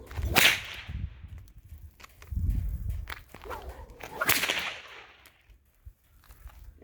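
A vaquero swings a whip overhead and snaps off sharp, loud cracks, two main reports a few seconds apart with swishing movement and faint outdoor shuffling between them.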